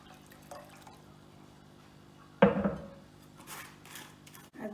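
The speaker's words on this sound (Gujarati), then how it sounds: "1 ગ્લાસ જેટલું પાણી નાખવાનું।" About a glass of water is poured into a pot of boiled, strained dal for Gujarati dal dhokli. A sudden splash near the middle fades into quieter trickling, with no talk.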